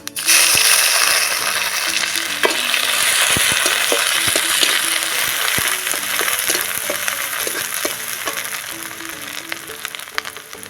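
Ginger frying in hot oil with cardamom, cinnamon, bay leaves, panch phoron, and green and dried chillies, a loud continuous close sizzle broken by scattered clinks and scraping stirs.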